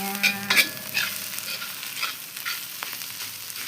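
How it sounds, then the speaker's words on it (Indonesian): Oncom, a fermented soybean cake, frying in a pan with spices, giving a steady close sizzle with a few sharper stirring scrapes near the start. "Terus si oncom digorengkeun."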